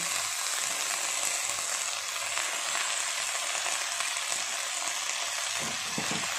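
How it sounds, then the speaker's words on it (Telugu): Coriander leaves fry with soft tomato in a pan for coriander pachadi, giving a steady close sizzle and hiss, with faint stirring scrapes near the end and no voices. "కొత్తిమీరను వేసుకున్నాక కొంచెం మళ్ళీ బాగా వేగనివ్వాలి."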